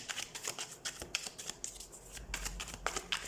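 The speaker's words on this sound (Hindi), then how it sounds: "तो सबसे पहले हम कार्ड शफल कर लेते हैं।" Tarot cards are shuffled by hand at close range, a rapid series of crisp riffling flutters and soft slaps in quick bursts, with no speech.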